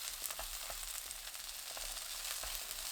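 Garlic and green onion stir-fry over high heat in two tablespoons of cooking oil in a pan, giving a steady, close, loud sizzle with scattered crackles and pops throughout, no voices.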